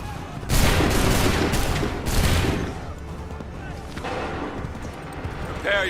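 A ragged volley of musket fire in Assassin's Creed III crackles out in several overlapping shots, then gives way to battlefield din with shouting voices throughout.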